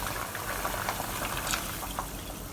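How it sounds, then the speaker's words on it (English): One more cup of water is poured into a cooking pot of braised pork belly with five spice and sugar, a steady bubbling, gurgling splash that continues at moderate loudness without talk. "Now we'll add in 1 more cup of water."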